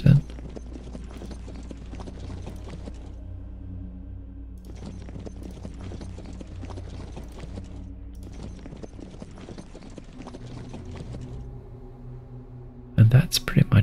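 Horse-drawn units in a World War II Ardennes strategy video game clop along in repeated rhythmic bursts of hooves with creaking mechanical rattles, separated by short pauses, a few seconds each, fairly close and steady.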